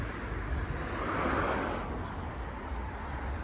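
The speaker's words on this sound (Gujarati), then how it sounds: "અને થોડોક ઠંડો પવન છે" Cool wind blows outdoors under cloudy skies, a soft, steady rushing that rises slightly midway and carries no speech.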